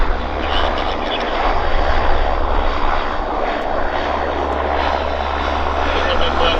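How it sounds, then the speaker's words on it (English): Saab 340 turboprop airliner in WestJet Link service at Vancouver airport, its engines a steady, loud, broad roar throughout, with a voice talking over it. "It's a West Prop Saab 340. Westjet, I should say. Westjet Link."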